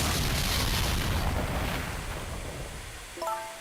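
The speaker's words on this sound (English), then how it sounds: "What in the world? An explosion?" Explosion in the video game Ghost Trick, a loud broad roaring blast that slowly fades, followed by a short electronic chime at the end.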